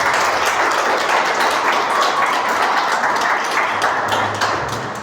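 A church congregation applauds during a Portuguese-language sermon on inner healing, a dense, steady wash of clapping that holds evenly for several seconds before easing off slightly at the end.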